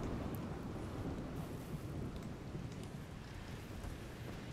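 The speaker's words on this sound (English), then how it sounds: "It's raining, it'll go out." Steady rain pours with low rumbling thunder in the video game RimWorld, a dense continuous wash of noise that stays even throughout, with no voices.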